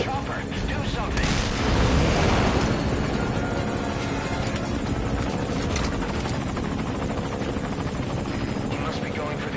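A helicopter in the video game Metal Gear Solid V roars with heavy, thumping rotor noise, a loud surge early on, under in-game combat voices and distant gunfire.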